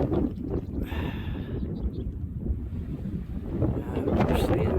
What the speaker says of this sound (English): It is really, really windy and cold.